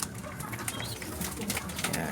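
Young pigeons coo softly while drinking water, low murmuring calls with faint wing flutters and light rustling, quiet and close.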